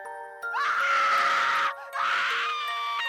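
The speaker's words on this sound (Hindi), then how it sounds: "उस रात सोफिया की चीखें बहुत जोर से गूंज रही थी" A woman's loud, sustained scream in an animated horror story, high and shrill, breaking briefly before a second long scream, with a steady ringing tone underneath.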